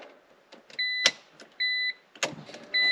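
A BMW E83 X3 with an M54 engine wakes as the key turns to position two: three steady electronic beeping chimes sound, each about a third of a second long, separated by soft clicks and relay thunks from the car's electrics, with no engine running.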